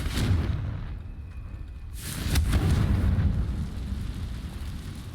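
Confringo blasting spells explode in Hogwarts Legacy, two loud booming bursts with rumbling decay, the second longer and heavier than the first.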